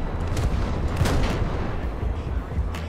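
A 76mm naval gun fires from a ship in War Thunder's naval battles, a steady low rumbling roar with a heavy boom near the middle and a fainter report at the end, all under continuous background battle noise.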